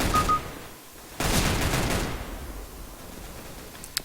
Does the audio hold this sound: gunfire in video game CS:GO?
yes